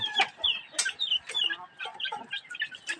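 Talisay chickens cluck in short repeated bursts, close by, with sharp overlapping calls and no talk.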